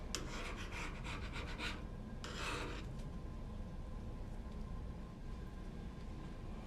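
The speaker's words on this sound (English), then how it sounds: "Best way to remove the gasket would be to use a flathead screwdriver and just push it" A flathead screwdriver pushes a rubber gasket off a printer printhead, giving close rasping scrapes in two bursts over a steady background hum, with no speech.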